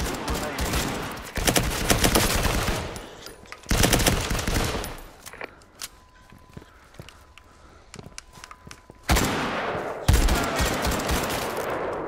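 Gunfire in the VR shooter Firewall Zero Hour on PSVR: dense bursts of automatic fire arrive in several loud clusters, with quieter stretches of scattered single shots and footsteps between them.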